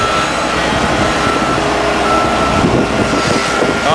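A welding truck at a boat ramp construction site rumbles steadily up close while reversing beeps sound repeatedly over the engine noise, with no voices.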